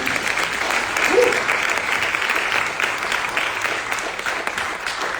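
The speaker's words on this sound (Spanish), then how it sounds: "quiero pedirle al público un fuerte aplauso para todo este equipo que está aquí al frente" A theatre audience gives the creative team a strong, continuous round of applause, crowded clapping holding steady for the whole stretch with a brief voice faintly underneath early on.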